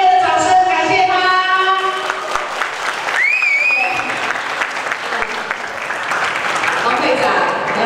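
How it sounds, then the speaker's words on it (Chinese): Loud, warm applause fills a hall at a parent-child community event, continuous clapping with scattered cheers, a whistling feedback tone briefly rising over it, and voices talking underneath. "我们是不是要用热烈的掌声感谢他？"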